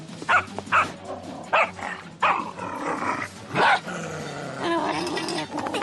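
A video-game dog barks in short bursts and growls low in between, close by and agitated, the barks coming irregularly over a constant background hum.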